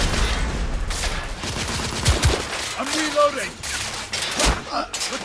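Gunfire in The Order: 1886, loud irregular shots and bursts with sharp cracks and whizzing ricochets, close and chaotic, with brief voices mixed in.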